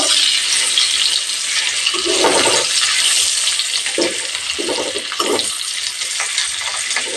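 Boiled potato pieces with salt and turmeric frying in hot mustard oil in a karahi, a loud, dense, continuous sizzle with occasional bubbling bursts and stirring.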